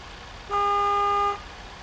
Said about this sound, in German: Mit einer okayen Hupe.